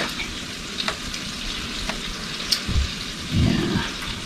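Pork sizzles in a pan beside matzo pancakes, a quiet continuous crackle with occasional sharp pops and a brief louder burst of frying near the end.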